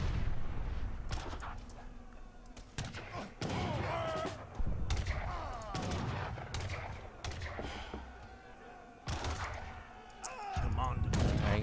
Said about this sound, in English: with the front wall and the gate mortars to tear down all the base walls